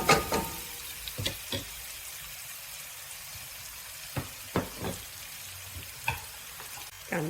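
Masala frying in oil in a pan as the oil starts to separate at the sides, a steady close sizzle broken by several sharp scrapes and knocks of a spoon.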